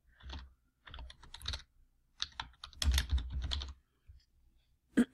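Fingers type on a computer keyboard in short, quiet bursts of clicking keys separated by brief pauses, close to the microphone with no voices.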